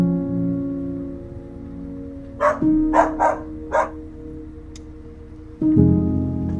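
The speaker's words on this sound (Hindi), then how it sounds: "तभी हमें कुत्तों के बहुत तेज भौंकने की आवाजें सुनाई पड़ी" Four dogs' barks ring out in quick succession over a steady engine-like hum, followed by a louder mechanical surge, at night beside a factory boundary near Pilibhit Tiger Reserve.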